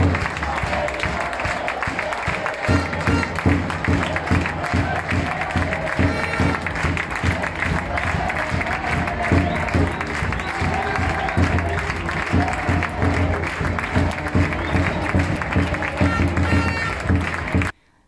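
Fans of the roller hockey side CP Villarrobledo applaud in encouragement after a lost match against Quintanar, a dense, steady wash of clapping and crowd noise with cheering and a low rumble, holding loud for about seventeen seconds before cutting off abruptly.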